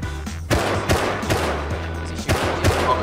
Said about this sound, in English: Yes, he's shooting.